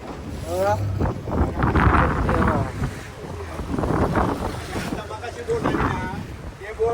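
Strong coastal wind buffets the microphone near Nivati Lighthouse on the Konkan shore, a loud continuous roar with gusts, while people talk over it.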